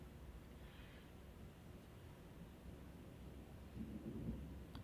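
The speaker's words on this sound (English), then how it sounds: "Ooh, I hear some thunder out there." Distant thunder rumbles low and steady beneath faint rain or background hiss, swelling slightly near the end, heard from indoors far off.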